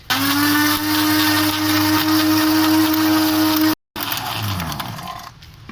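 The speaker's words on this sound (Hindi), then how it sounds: "इसके अंदर 1 टीस्पून हमने शुगर ऐड करनी है और इसको हमने कर लेना है ग्राइंड" A kitchen blender grinds plums with a teaspoon of sugar, a loud, steady whirring with a strong motor whine that cuts out abruptly for a moment, then restarts briefly before stopping.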